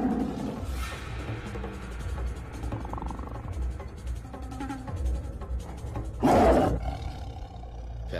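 A tiger gives a deep, loud roar close by, layered over a dense action-film soundtrack, with a sharp burst near the end.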